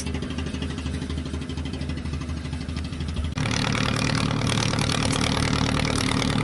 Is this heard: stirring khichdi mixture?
no